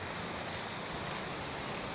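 Sea waves roll in beside a seawall in Rosario, Cavite, a steady, dense wash of surf mixed with wind noise that continues without a break throughout.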